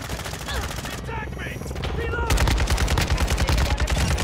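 Rapid automatic fire from a Kastov 762 rifle in the video game Modern Warfare 2, loud and close, with sustained bursts that grow denser toward the end and a brief lull in the middle.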